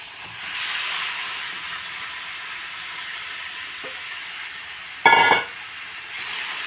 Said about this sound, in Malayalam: അപ്പോൾ നമ്മുടെ നാരങ്ങയും ഈന്തപ്പഴവും ബാക്കി സംഭവങ്ങളായ പച്ചമുളക് വെളുത്തുള്ളി എല്ലാമായിട്ടൊന്ന് ചിക്കിക്കൊണ്ടിരിക്കുകയാണ്